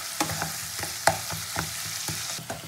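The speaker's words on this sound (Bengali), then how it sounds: "এটা দিয়েও খুব ভালো করে তেলের মধ্যে নাড়বো" Ginger-garlic spice paste fries in hot oil for a rohu fish and capsicum curry, with a steady low sizzle broken by several sharp scrapes and knocks of stirring, close and fairly soft.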